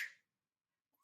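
A single sharp finger snap, close and crisp, fading quickly into silence.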